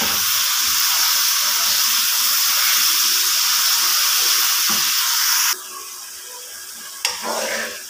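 Whole green chillies sizzle and fry in a garlic and onion paste, a loud steady hiss that cuts off and drops lower near the end, with a brief clatter after.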